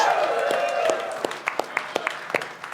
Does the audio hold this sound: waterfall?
no